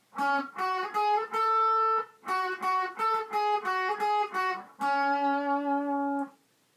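A guitar plays a battle theme from Pokemon Omega Ruby/Alpha Sapphire, a bright, clean melody of short bursts of notes with brief gaps, ending on a sustained held note.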